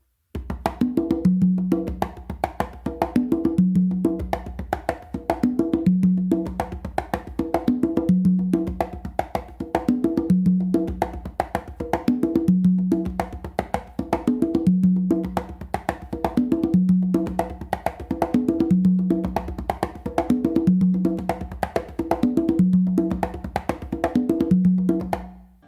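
A fifth songo variation played on three congas: a repeating hand-drum groove mixing deep open tones with crisp slaps and soft taps, cycling evenly for nearly half a minute, close and alone.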